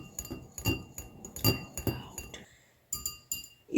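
A spoon stirs milk and white vinegar in a glass, clinking against the sides again and again in an uneven rhythm. The clinks are close and bright, with a short pause near the end.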